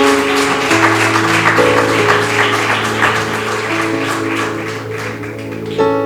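A church congregation claps along in praise, steady rhythmic hand claps layered over sustained organ or keyboard chords, with a brief louder burst near the end.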